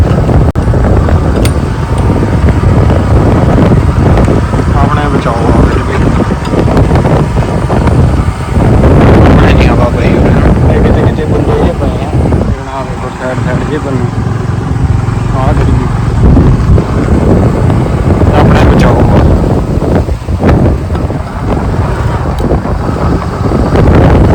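Strong wind blows through a sugarcane field, roaring and buffeting the microphone in loud, uneven gusts for the whole stretch. Someone speaks over it at times.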